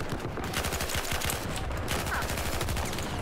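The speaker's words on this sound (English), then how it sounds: "Probably shouldn't try to shoot someone that far away with a gun." Rapid bursts of M249 light machine gun fire in the PC shooter Battlefield 4, dense overlapping automatic shots running continuously and loudly for the whole stretch, with faint talk underneath.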